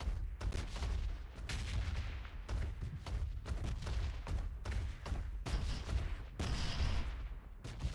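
Red zone bombs exploding in PUBG Mobile, a steady barrage of repeated sharp blasts about every half second, each a loud broadband crack with a rumbling tail.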